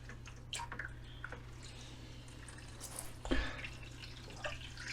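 Aquarium water drained from a tank holding chili rasboras trickles and drips quietly over a steady low hum, with one brief louder splash partway through.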